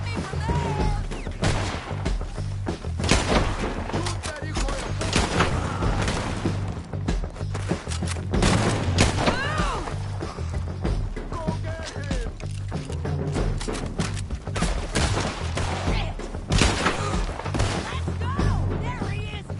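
Gunfire in Red Dead Redemption 2 story mode, a dense, continuous barrage of shots and impacts over a low rumbling score, loud and sustained throughout with shouting voices mixed in.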